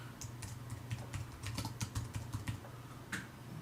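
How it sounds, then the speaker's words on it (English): Steady computer keyboard typing up close, a continuous run of quick, crisp keystrokes over a low background hum. "we type in a bit of text so people know what it's all about"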